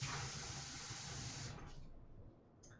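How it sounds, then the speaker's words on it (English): Water poured into a dye pot of yarn, a loud hissing splash that runs steadily for about a second and a half, then tapers off into quiet dripping. "But I do want to add some more water."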